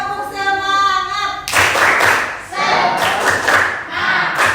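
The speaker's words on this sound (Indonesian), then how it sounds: "Tepuk semangat." A school class does a rhythmic spirit clap: after a short spoken call, three loud, close bursts of group clapping follow in quick patterned rounds, filling the room.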